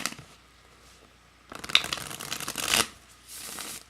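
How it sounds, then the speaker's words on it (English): A deck of tarot cards is shuffled up close in a brisk riffle of crisp flapping and snapping for about a second and a half, then paper rustling, with quiet between. "That's why I shuffle on camera"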